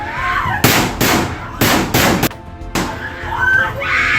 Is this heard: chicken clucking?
no